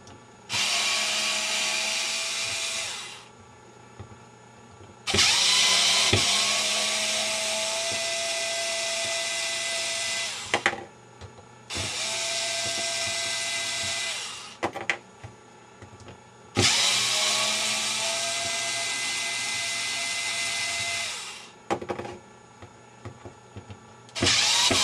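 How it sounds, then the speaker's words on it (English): A cordless screwdriver backs out tough stainless steel screws while building an airsoft RPG. The motor whirs loudly and steadily in about five separate bursts of several seconds each, with short quiet pauses and small clicks between them. "That's where the cordless screwdriver comes in real handy"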